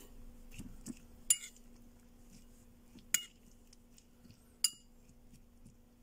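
Metal utensils clink against a plate as rice and a spicy dish with calamansi are mixed together, three sharp isolated clinks standing out over a quiet background.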